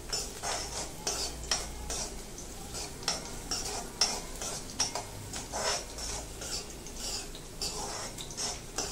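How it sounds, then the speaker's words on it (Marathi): Green chillies stir-fried in a little oil in a kadai, a steady close sizzle broken by frequent scraping and stirring strokes of a spatula against the pan, with no talk. "अगदी थोड्याशा तेलावर परतून घेऊया. त्याचा रंग लगेच बदलतो बघा."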